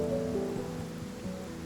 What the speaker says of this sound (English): At times it feels like the rainfall never ends.